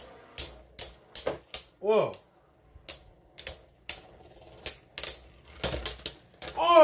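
Plastic Beyblade battle tops from the Dynamite Battle and Sparking series clash in a stadium, giving a rapid series of sharp clacking hits and rattling impacts with short pauses between them, up close, with a brief exclamation.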